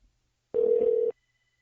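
A single ringback tone from an outgoing mobile phone call routed through an iRig interface, one steady electronic tone lasting about half a second, clean and loud against silence.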